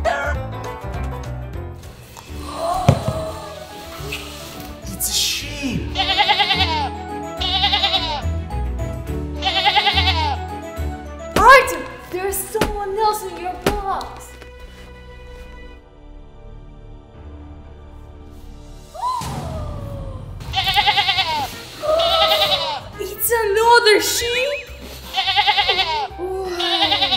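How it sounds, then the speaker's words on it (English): A sheep gives a series of loud, wavering bleats in several clusters, broken by a quieter stretch in the middle, all over a layered musical backing. "It's a sheep."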